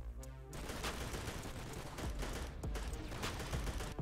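Rapid gunfire in a Call of Duty campaign battle: dense, continuous rattling shots that come at moderate loudness after a short quieter opening.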